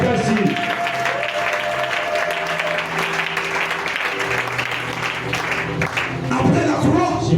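Congregation applauding and acclaiming during a salvation sermon, steady dense clapping with crowd voices and a preacher's amplified speech running underneath, swelling slightly louder near the end.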